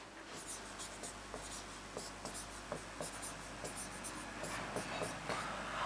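Chalk or marker scratching on a board as a teacher writes during a Hindi grammar lesson, with faint, irregular short strokes and taps in a quiet room.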